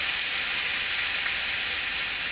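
About two teaspoons of garlic fry in a pan with a constant, even hiss of sizzling oil, close and unbroken, with no voices.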